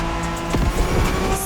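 A 1990s Honda NSX sports car drives in The Crew Motorfest racing game, with a steady engine drone and a quick sweeping whoosh of passing traffic midway, loud and close.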